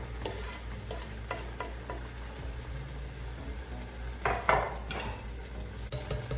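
Garlic sizzles in a hot pan, a steady quiet frying hiss broken by scraping stirs and a few clinks of a utensil against the pan.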